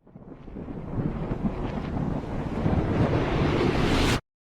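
A thunderstorm recording played backwards: a rumbling, roaring swell builds steadily louder over a few seconds, then cuts off abruptly.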